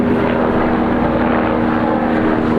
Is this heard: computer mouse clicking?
no